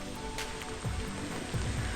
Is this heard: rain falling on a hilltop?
yes